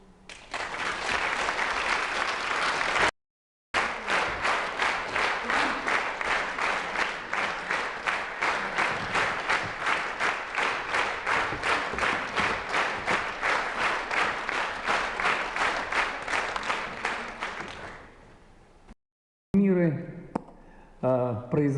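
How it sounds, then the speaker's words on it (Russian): A concert audience applauds warmly with dense, sustained clapping that runs strong for about fifteen seconds after a brief break, then fades; a voice speaks at the very end. "Вы так, я немножко даже завидую, как вы горячо им аплодируете."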